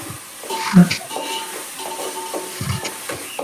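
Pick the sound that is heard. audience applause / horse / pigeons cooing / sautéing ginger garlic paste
sautéing ginger garlic paste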